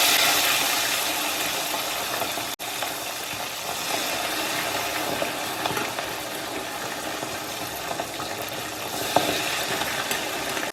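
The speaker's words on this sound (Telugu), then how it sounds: "ఈ చికెన్ని కొన్ని పీసెస్గా పెట్టుకొని మంట సిమ్ములోనే పెట్టుకొని చేసుకోవాలా" Chicken pieces fry for pickle in a small pan on a low flame, making a steady, dense sizzle that runs unbroken throughout.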